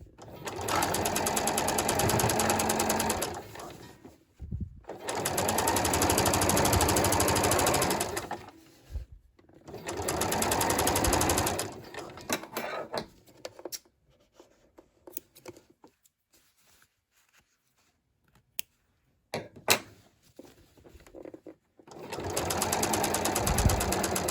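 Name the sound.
sewing machine stitching jeans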